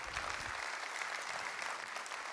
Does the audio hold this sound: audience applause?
yes